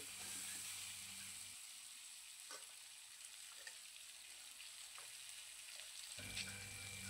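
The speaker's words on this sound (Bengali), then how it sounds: "তেলের মধ্যে দিয়ে আমটাকে কিছুক্ষণ সময় নেড়ে নিচ্ছি, কয়েক সেকেন্ডের মতো, 5 থেকে 6 সেকেন্ডের মতো একটু নেড়ে নিলাম তেলের মধ্যে" Thin mango slices frying in oil for sour dal, with a faint, even sizzle and hiss running throughout and occasional soft stirring taps, quiet and distant with no voices.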